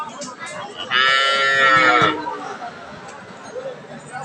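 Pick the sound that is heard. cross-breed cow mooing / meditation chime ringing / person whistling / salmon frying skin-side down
cross-breed cow mooing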